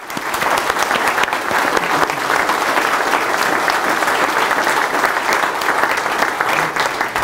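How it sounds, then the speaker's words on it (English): A courtroom audience at a Law Day event breaks into loud, continuous applause for the organizers, a thick, steady wash of clapping that holds for about seven seconds with no talk over it. "want to just give them a round of applause"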